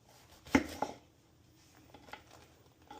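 A kitchen knife slices through rolled-up collard greens, with two quick, close cuts followed by softer faint scraping sounds.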